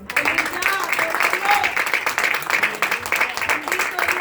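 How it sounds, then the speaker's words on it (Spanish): A church congregation claps for the Lord in worship, brisk, continuous applause with voices calling out over it. "Dale un aplauso al Señor."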